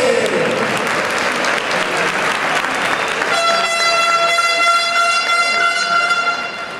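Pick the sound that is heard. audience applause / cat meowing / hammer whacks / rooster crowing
audience applause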